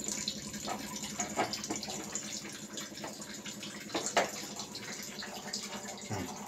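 Water runs straight from the inlet of a household water purifier in a steady, continuous stream, with a few brief louder splashes and faint background noise.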